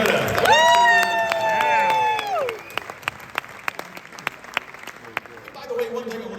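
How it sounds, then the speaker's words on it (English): Audience applause and cheering at a speaking event, opening under a bright sustained tonal swell and then thinning to scattered individual claps. "Another round of applause for Meridith."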